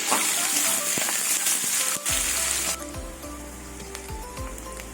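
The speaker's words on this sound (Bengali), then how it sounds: "কাঁচা লঙ্কা আর পেঁয়াজটা লাল লাল করে ভেজে নেব" Green chillies and onion frying in a pan, with a dense close sizzle that drops to a softer crackle partway through, along with a low steady hum and a few light clinks.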